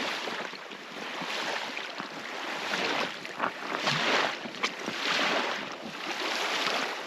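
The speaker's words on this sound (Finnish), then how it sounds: "Mitäs täällä nyt ropisee? Vettä sataa." Rain from a brief shower patters steadily on a canoe trip out on the water, a dense, continuous hiss with occasional louder drops and gusts.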